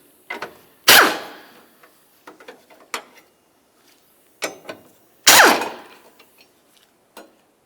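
Two 13mm bolts are worked loose from the engine of a 2007-12 Nissan Sentra with a ratchet, giving two loud clanking knocks among scattered light metallic clicks and ticks, up close with no voices.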